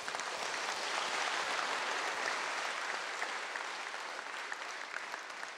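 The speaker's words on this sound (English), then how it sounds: "I would like all of us here to give a thunderous clap to all these three" An audience at a public briefing in Taman Rimba Kiara breaks into sustained, dense applause for three speakers, the clapping holding steady and close before easing slightly toward the end.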